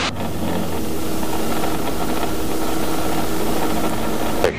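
Robinson R22 helicopter engine and rotor noise heard from inside the cockpit during simulated engine failure practice, a loud, steady droning roar with broadband hiss that continues unbroken throughout.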